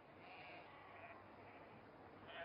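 A sheep bleats faintly at a distance, a soft wavering call over a low hiss, with another brief bleat near the end.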